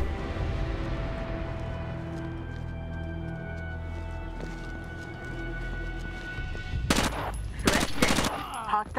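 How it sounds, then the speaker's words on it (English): In Rainbow Six: Raven Shield, rapid bursts of automatic gunfire crack out near the end after a stretch of low droning ambience, loud and close in a few tight clusters. "Oh, they're shooting at us."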